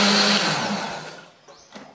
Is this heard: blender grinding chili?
yes